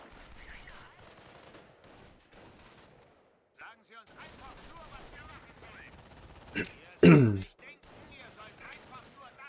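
Sniper and rifle gunfire in the real-time strategy game Company of Heroes: a few sharp shots and a short loud burst near the end, heard under steady spoken commentary.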